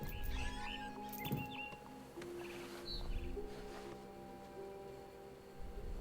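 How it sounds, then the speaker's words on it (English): Faint, high chirps of a barn swallow outside a window come in scattered short bursts over a low, murky game ambience with soft rustling, in What Remains of Edith Finch. "Then I heard chirping outside my window. It was a barn swallow going back to her nest."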